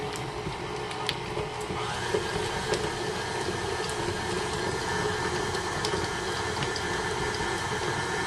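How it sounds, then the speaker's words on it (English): An electric mixer runs steadily on low speed, creaming room-temperature butter for cream cheese frosting: a continuous, even motor whir with a faint rattle, close and unbroken throughout. "start it off on a low speed, and just cream the butter until it's nice, creamy, and fluffy"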